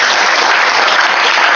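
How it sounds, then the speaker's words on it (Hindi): A large audience at a comedy and poetry stage show breaks into loud, dense clapping that holds steady throughout the short stretch. "एक बार बहुत अच्छी ताली बजाइए।"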